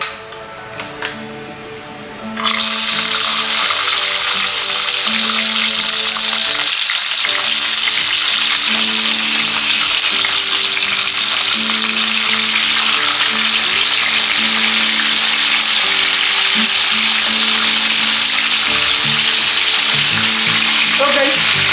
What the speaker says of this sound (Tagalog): then ipa-fried natin ang tilapia